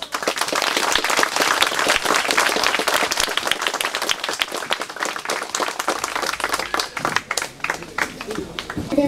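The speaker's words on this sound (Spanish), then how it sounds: "pero fuertísimo aplauso" A crowd at a street inauguration in the El Jobo community gives loud, sustained applause for the mayor and council, dense clapping that thins and fades slightly near the end.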